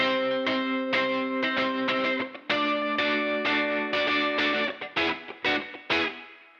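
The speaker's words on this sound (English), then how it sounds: "This is the sound of the amp" Electric guitar chords ring out through a Fender Deluxe amplifier with a distorted, chorus-tinged tone, strummed in rhythmic bursts with sustained, shimmering notes.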